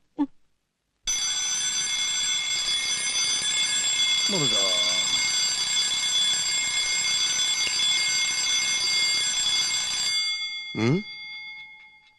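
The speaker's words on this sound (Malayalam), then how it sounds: "ഇതാരാ 3 മണിക്ക് അലാറം വെച്ചത്?" An alarm clock rings loudly and close by in a continuous electronic tone for several seconds, then cuts off, followed by a short vocal sound.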